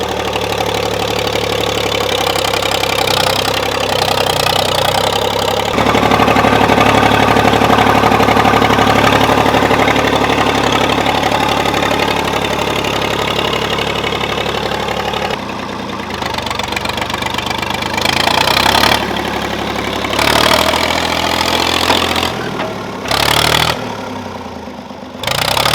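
An old diesel tractor left sitting abandoned for ten years runs and idles with a loud, steady knocking chug, the engine note shifting and dipping briefly in places as it keeps running close by, without speech.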